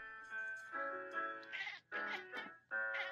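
A cat meows repeatedly in a series of drawn-out, tonal calls with short pauses between them, close and fairly loud, with no talking over them.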